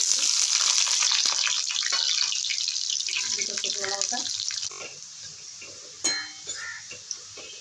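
Onion hits hot mustard oil in a wok, giving a loud, steady sizzle that gradually fades to softer crackling pops and clinks, with faint talk underneath.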